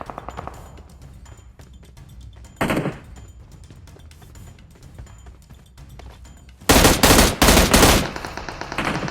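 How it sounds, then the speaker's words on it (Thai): Gunfire in the PUBG Mobile battle game: a short burst of automatic shots near the three-second mark, then a louder, closer series of rapid bursts toward the end, over quiet footsteps and ambient game sound. "เพื่อเรายิงนะครับ"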